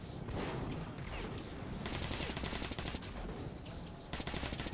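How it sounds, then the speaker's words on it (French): Enemy gunfire in Metro 2033 Redux, a steady distant rattle of automatic bursts running continuously at low volume. "il me tire dessus là"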